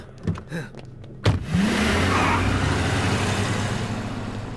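A car in a scene from the Telugu action film Simha starts up with a sharp burst, then its engine revs and settles into a loud, steady drone as it pulls away.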